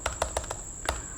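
Short burst of typing on a computer keyboard while writing a beginner Java program, four quick close keystrokes followed by a pause and one more tap, clicky and near, with no voices.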